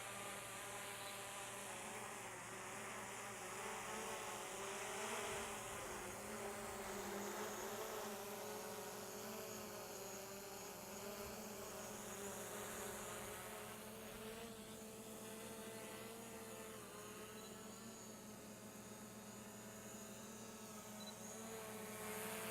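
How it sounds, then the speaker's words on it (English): A DJI Mavic Pro drone hovering close by while held in the hand, its propellers giving a steady, high, whining buzz that wavers slightly in pitch and holds fairly even in loudness throughout. "You heard that the drone wants to go up"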